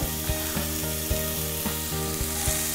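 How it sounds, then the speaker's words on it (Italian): Sliced zucchini frying in hot oil with garlic in a saucepan for risotto, a steady close sizzle with regular stirring knocks and scrapes pulsing through it. "A questo punto possiamo aggiungere le zucchine."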